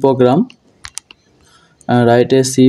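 A few sparse, light taps on a computer keyboard in a short pause, framed by someone talking before and after.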